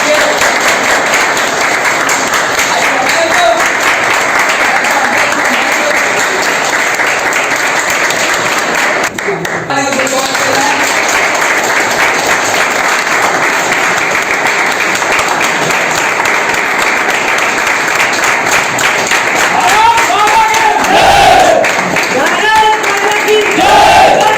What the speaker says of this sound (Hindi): उम्मीद करूंगा आप जोरदार तालियों से स्वागत करेंगे